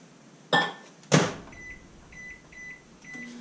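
A microwave oven, used to reheat soft plastic fishing bait, shuts with two sharp clunks near the microphone. A series of short electronic beeps follows over a faint hum.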